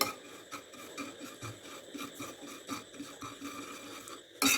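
Sugar fries and is stirred into caramel in a pan, a soft continuous scraping and sizzling with repeated stirring strokes, close and fairly quiet, ending in a louder brief clatter, with no talk.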